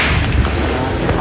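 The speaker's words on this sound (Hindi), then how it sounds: "देखो भाई हर जगह गली में सारे लोग बजा रहे हैं" A loud, dense burst of Diwali firecrackers explodes in a residential street, a short crackling blast close by with no talking.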